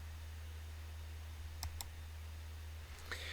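A computer mouse gives two quick, faint clicks over a steady low electrical hum, with a softer click-like rustle shortly after, while layer files are opened in NFT art generation software.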